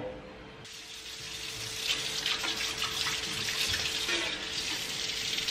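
A new cast iron dosa pan is rinsed under a running tap, a steady hiss of flowing water splashing onto the metal surface in a sink, fairly close and continuous with no talking.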